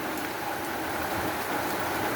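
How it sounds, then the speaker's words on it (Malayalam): Rain falls on garden plants, including a bonsai, in a soft, even patter of drops spread around the listener, moderately quiet and free of talk. "മഴത്തുള്ളി വീഴുകയും"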